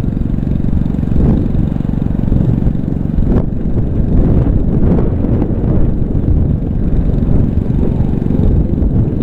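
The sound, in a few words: wind blowing on the microphone outdoors while a drone flies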